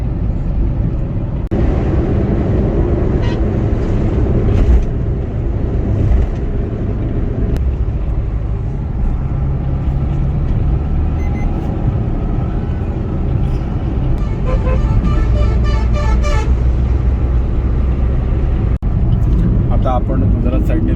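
Heavy traffic on the Gujarat–Mumbai expressway near Manor, packed with trucks and container lorries, heard as a loud continuous engine roar and road rumble from inside a vehicle, with people talking throughout and occasional horn-like tones.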